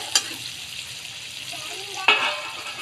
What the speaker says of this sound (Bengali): অল্প অল্প জল দিয়ে এভাবে কষিয়ে নেব।